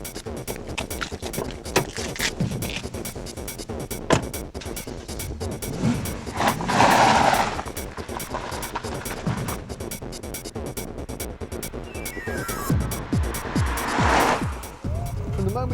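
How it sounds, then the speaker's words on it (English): A V8-powered performance car runs on the road with a deep, continuous engine rumble, swelling under acceleration and easing off, with tyre noise and a couple of loud surges; a voice talks over parts of it. "it's a very refined and sophisticated version of the usual V8 burble"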